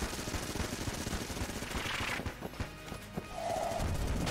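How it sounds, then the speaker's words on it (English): Vulcan Cannon minigun fire in Enter the Gungeon, a fast dense rattle of rapid shots that runs steadily for a couple of seconds and then breaks into sparser bursts under game sounds. "We used like 300 rounds in the Vulcan Cannon."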